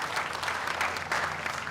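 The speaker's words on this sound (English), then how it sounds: "let's give them a big round of applause" Audience applause fills a commencement ceremony hall, a steady dense wash of clapping that stays loud and even across the whole stretch.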